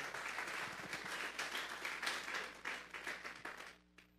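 A church congregation at a Sunday afternoon service claps together as an offering of applause to God: dense, steady hand-clapping that fills the room for about four seconds, then tapers off abruptly near the end.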